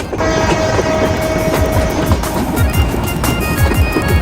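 A passenger train on the line out of Mymensingh rolls along its rails with a loud, close, rhythmic clatter of wheels over track joints and a steady rumble underneath.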